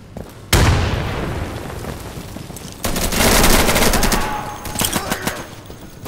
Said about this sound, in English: Fragmentation, coming up!